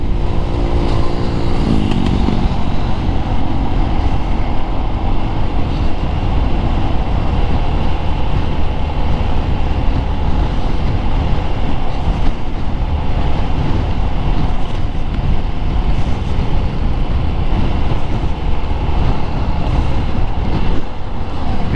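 Steady, loud vehicle traffic on the Andaya highway heading to Bicol, a continuous rumble of engines and road noise heard from inside a moving vehicle, with no talk.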